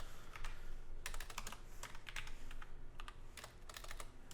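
Keys clatter on a computer keyboard in irregular quick bursts, with short pauses between runs of typing, close and fairly quiet, while someone codes a React authentication feature.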